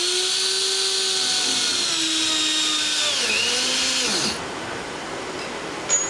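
A spin welder spins a polyethylene fitting into an RV water tank, giving a steady high whine with tonal harmonics that dips and drops in pitch near the end, then cuts off and leaves a quiet tail.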